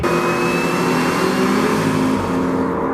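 Supercharged big-block Mustang drag racing down the strip, a loud, steady engine roar under acceleration, heard from nearby and sustained without pause, with no talking.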